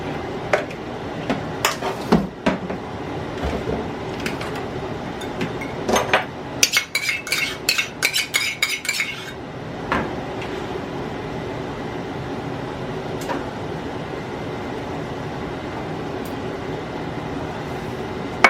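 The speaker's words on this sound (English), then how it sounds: "Let me get a bowl because we're going to need to mix this." A mixing bowl is taken out and handled among dishes in a home kitchen while meatloaf is prepared, giving scattered ceramic and cutlery clinks in short clusters, then a quiet steady background hum.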